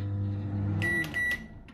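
A Smith & Noble microwave oven hums with a steady low drone, then gives a few bright electronic beeps as the hum stops, close and clear with no talking.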